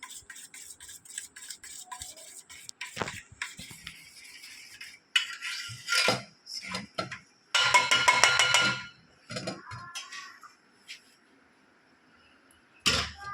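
Egg being mixed into rava (semolina) batter in a bowl, heard as scattered scraping and tapping of a spoon against the bowl, with louder bursts of clattering stirring midway and a sharp final knock.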